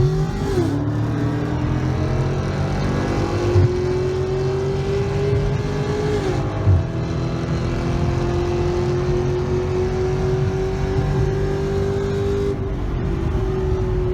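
A Dodge Challenger Scat Pack drag-races a cammed Chevy SS fitted with headers. Loud engine roar holds steady, then climbs in pitch through the gears in repeated upshifts, alone with no talk.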